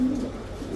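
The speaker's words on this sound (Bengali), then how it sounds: "এটা কিন্তু বিআরপিএফসি ক্লাবের কবুতর, 2023-এর একটা মাদি কবুতর" A female pigeon coos in one brief, low, soft call, close by and alone.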